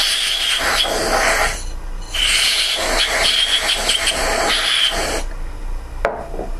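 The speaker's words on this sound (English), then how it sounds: "And then I just take some compressed air." Compressed air blasting through a watch head part during cleaning, a loud close hiss in long bursts with brief gaps between them.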